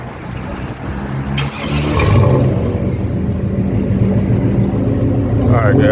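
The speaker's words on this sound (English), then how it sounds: "Gotta love that remote start when it get cold" A Chevy Tahoe engine idles after a remote start in cold weather, a steady low rumble that swells slightly midway and holds close and loud, with a voice speaking over it.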